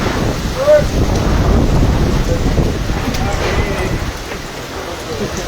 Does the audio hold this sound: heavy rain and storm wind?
yes